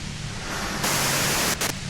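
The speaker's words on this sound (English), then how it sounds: "you can do it through the white noise." Loud broadband white-noise static from the Disco Elysium video game hisses steadily, jumping louder partway through and briefly dropping out before returning.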